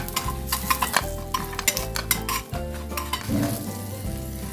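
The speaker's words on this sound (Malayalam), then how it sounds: "ഗോൾഡൻ ബ്രൗൺ ആവുന്ന വരെ നമുക്ക് ഫ്രൈ ചെയ്തെടുക്കണം" Oyster mushrooms for tempura sizzle and crackle loudly in hot oil while being stirred, with rhythmic scraping strokes of a utensil against the pan and no talking.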